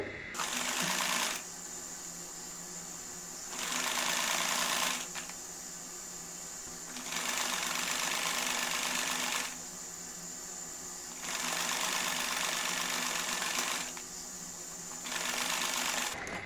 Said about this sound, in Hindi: ये देखें, और इधर सिलाई लगा लेंगे।